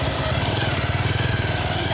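A motor boat engine runs steadily at the Lamitar picnic spot, a close, continuous low-pitched drone with a rapid putter and no clear pauses.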